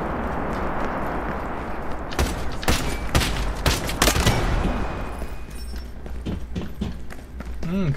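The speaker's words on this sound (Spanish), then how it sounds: "Escuchan unos disparos." Gunfire volley in the video game Lost Light: a burst of rapid, sharp shots cluster in the middle, then a few scattered cracks, over steady game ambience.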